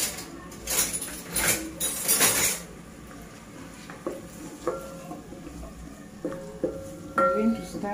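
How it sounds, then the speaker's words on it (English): Onions cooking in oil in a pot are stirred, giving a few loud scraping strokes at first, then softer clinks and light sizzling with short tonal utensil taps against the pot. "I'm going to stir it"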